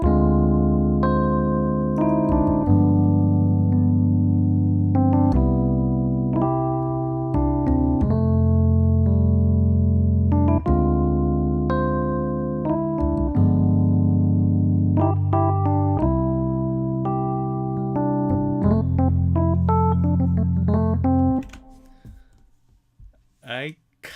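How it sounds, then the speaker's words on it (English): An electric piano and bass play a jazzy arrangement with added chord tensions, moving through sustained chord changes over a walking low line, near and prominent, before fading into a few scattered clicks. "but it could be kind of jazz-ish if I put some tensions and use electric"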